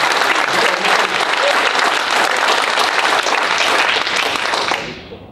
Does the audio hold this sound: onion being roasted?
no